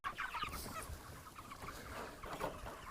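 Broiler chickens in a roller pen on a farm cluck steadily as a dense, continuous flock chorus, moderately loud and close, with no talk.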